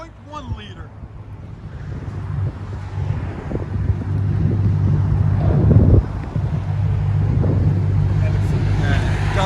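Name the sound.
straight-piped Dodge Challenger SRT/8 6.1L HEMI engine idling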